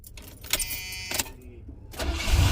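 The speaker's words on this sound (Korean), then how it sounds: "와, 정말 금방 시동이 걸렸네요." Faint rattling and handling noises, then a car engine cranks and catches, its low rumble growing steadily louder near the end.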